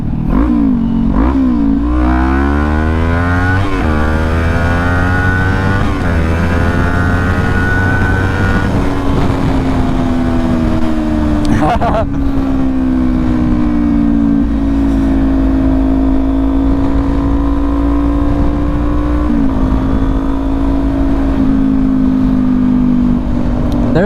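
A 400 motorcycle accelerates hard while riding, engine pitch climbing through several quick gear changes before settling into a steady loud drone with wind noise, no talking.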